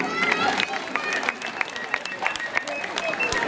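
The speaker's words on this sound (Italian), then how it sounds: "un applauso ai nostri musicisti, un fortissimo applauso, bravi tutti!" An audience at a folk music and bagpipe festival in Vallerotonda claps for the musicians, a brisk patter of applause close by, while a presenter speaks over it.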